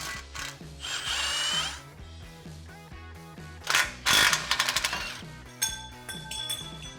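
A power tool zips off the sway bar bolts on a Jeep in quick bursts, with loud whirring pulses, rattling impacts and a sharp metallic clatter near the end.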